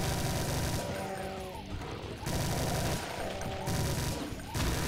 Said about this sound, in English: We're going to pull out the old chain gun. Take care of them.